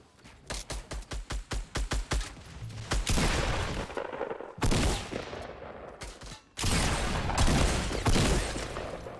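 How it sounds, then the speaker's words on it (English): Pistol gunfire in the Fortnite video game starts as a rapid, evenly spaced string of sharp shots, then turns into longer, louder bursts of fire with short gaps between them. "someone's shooting a pistol"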